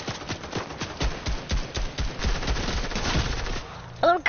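Video game gunfire crackling in rapid automatic bursts at moderate loudness, with a few sharper shots, running for most of the stretch.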